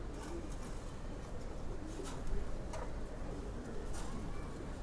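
Silver pigeons in a loft, a paired couple among them, cooing softly over a constant hiss of background noise, faint and fairly distant with no voices.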